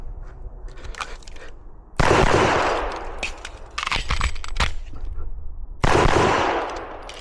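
A CZ Shadow 2 handgun fires reloaded ammunition loaded with 3.2 grains of powder from about 10 yards. The shots are sharp, loud and irregularly spaced, with a faint voice before the first one.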